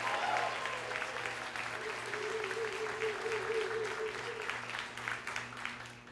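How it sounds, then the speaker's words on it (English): A crowd applauds at an annual police-community relations awards event, steady sustained clapping filling the room, with a low constant hum underneath and a faint tonal sound in the middle, tapering slightly at the end. "I think she deserves a huge round of applause"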